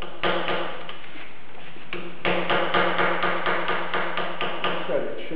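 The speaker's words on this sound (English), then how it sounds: "I'm just going to use a punch, and in one of those spanner holes, loosen this guy up." A metal punch set in a spanner hole of a Bridgeport J-head mill spindle is struck repeatedly with a hammer, a steady series of sharp, close metallic blows with a brief pause near the start.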